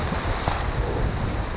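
Ocean waves breaking at Praia Grande beach in open sea at sunset, a loud, dense roar of surf with wind buffeting the microphone, no voices.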